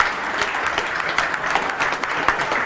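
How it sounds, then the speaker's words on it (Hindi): Newsroom staff break into loud, sustained applause, a dense wash of many hands clapping close by without pause. "न्यूज़ रूम में तमाम लोग जो हैं जोरदार तालियों के साथ स्वागत करें।"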